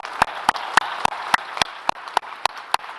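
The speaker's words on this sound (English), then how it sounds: "Please join me in giving a round of applause for our amazing panelists." Sparse, thin clapping comes from a small audience applauding panelists at the close of a discussion, with about a dozen distinct, fairly even claps spread over a few seconds and no talk over them.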